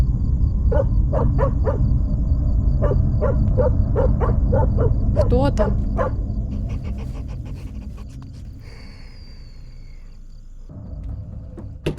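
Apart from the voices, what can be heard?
dog barking in Fears to Fathom video game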